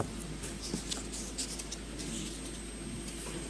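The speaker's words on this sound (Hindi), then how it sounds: "यहाँ पन्ने फड़फड़ा रहे हैं" Paper pages flipping and rustling in a High Court courtroom, soft dry crackles and flutters repeating over a steady background hum.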